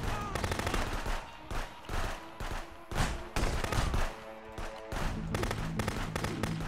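Rapid gunfire in the video game Contraband Police, bursts of automatic shots and single cracks crowding the whole stretch, loud and close with a dense rattling rhythm and no talk over it.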